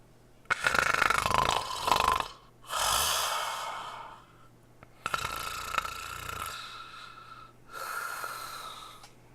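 A person imitates snoring with a microphone close by, giving four long, rasping breaths with pauses between them and no talk.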